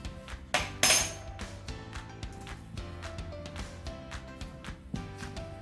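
Banana bread batter mixed in a bowl, with irregular clinks and knocks of a utensil against the bowl, close and fairly loud, a couple of sharper hits near the start, and no talking.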